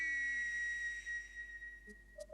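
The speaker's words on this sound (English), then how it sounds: "Oh, even the whistle's wet." A steam train whistle, wet from rain on a model railway set, gives a long steady tone that fades, followed by a few faint short toots, with no talk.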